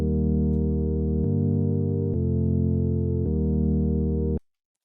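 Sustained synth pad from Ableton Operator layering triangle and saw oscillators, filtered with chorus ensemble, playing four held chords that change roughly every second, steady and loud, then cutting off cleanly near the end.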